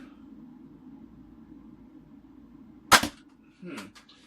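Nerf Mega Bulldog blaster firing a dart with a sharp, loud pop, followed by a softer thud about a second later, otherwise near silence.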